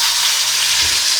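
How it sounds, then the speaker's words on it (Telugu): Chicken pieces fry in oil in a pot over a high flame, giving a steady, close, loud sizzle with dense crackling that carries on without pause, with no voices. "ఇప్పుడు ఏం చేద్దామంటే ఈ ముక్కల్ని ఒక గిన్నెలో నూనె వేసి ఈ ముక్కల్ని అందులో వేపుదాం."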